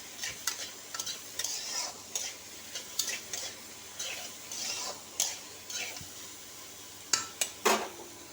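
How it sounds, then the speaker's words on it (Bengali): Spiny gourd (kakrol) slices seasoned with salt, turmeric and chilli powder fry in a pan, a constant close sizzle broken by repeated sharp clinks and scrapes of a spatula against the metal, no voices. "এবার এটাকে ভাজা হতে দেবো।"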